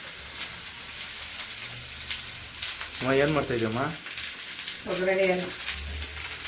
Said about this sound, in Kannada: ಒಗ್ಗರಣೆಯನ್ನು ಮಾಡ್ತೈತೆ.